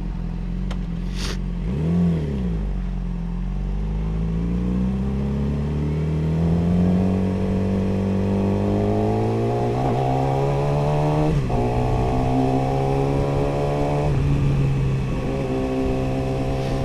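A car engine runs steadily and close, its pitch rising gradually as it revs and accelerates, with a low rumbling hum throughout.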